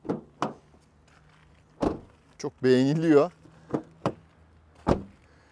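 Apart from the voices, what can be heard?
car door closing on a 2016 Volkswagen Passat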